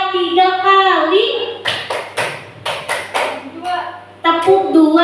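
Rhythmic hand clapping pattern performed in a teaching session, a series of sharp, close claps in distinct groups with short pauses, framed by a voice singing or chanting before and after.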